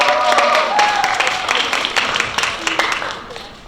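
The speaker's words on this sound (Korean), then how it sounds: "우리를 기쁘고 행복하게 해준 윤현빈 학생에게 큰 박수 부탁드립니다" A crowd applauds a student's presentation at a youth camp's project presentation contest, dense steady clapping filling the room with a few louder claps standing out, fading slightly toward the end.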